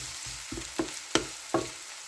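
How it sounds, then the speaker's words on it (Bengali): Onions frying in a little leftover oil in a pan, a soft steady sizzle broken by four or five sharp scraping stir strokes spaced about a third of a second apart, close and moderately loud. "পেঁয়াজ দিয়েছি সেই তেলটার মধ্যেই, যতটুকু তেল রয়ে গিয়েছিল।"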